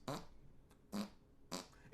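Three short, loud fart sounds, one near the start, one around the middle and one toward the end, each a buzzy burst with quiet gaps between them.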